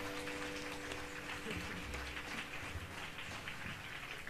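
A park concert audience applauds a viola player in a steady, continuous wash of clapping that stays even throughout.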